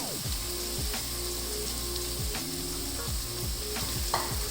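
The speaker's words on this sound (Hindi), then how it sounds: "और अब इसके साथ ही ये जो मैंने अंडे फेंट के रखे हुए थे ये इसमें चले जाएंगे।" Beaten eggs go into onions and potatoes frying in a pan for an aloo anda dish, giving a steady loud sizzle with repeated scraping strokes of stirring throughout, and no voices.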